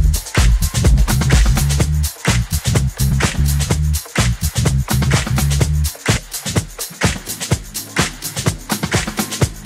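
Extended mix of a dance music track, with a pounding, punchy beat and a heavy low end driving steadily, loud and continuous with no voices over it.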